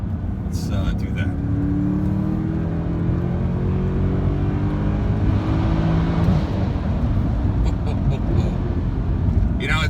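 A 2013 Mercedes C63 AMG V8 roaring inside a tunnel, its loud engine drone rising in pitch as it pulls and echoing off the walls, continuous and close.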